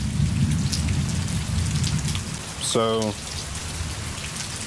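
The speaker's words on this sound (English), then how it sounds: "It's been raining pretty much throughout the entire day." Heavy rain pours down steadily outdoors through a full day of wet weather, a dense continuous hiss that stays loud from start to finish, with a brief spoken word partway through.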